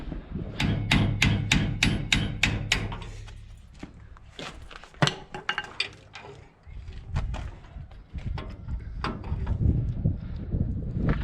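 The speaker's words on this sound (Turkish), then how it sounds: "Şimdi şurada bir tane pin var onu vurup çıkartacağız bakacağız." Sharp metallic hammer blows drive a pin out of a Massey Ferguson 5440 tractor, with a fast run of loud, evenly spaced strikes followed by scattered irregular knocks and some clatter close by.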